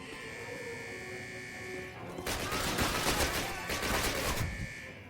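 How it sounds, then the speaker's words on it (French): Dense automatic gunfire breaks out in the 2003 Call of Duty level at the Eder dam, a loud continuous rattle of rapid shots following a few seconds of droning game ambience. "je tire à vue"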